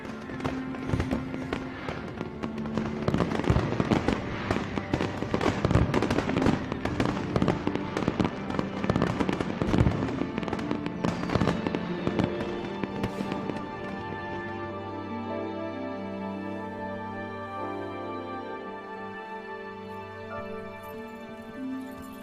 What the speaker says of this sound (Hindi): आतिशबाजी सुंदर है।